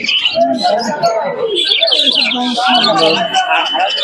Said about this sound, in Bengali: কোয়ালিটির কবুতর আছে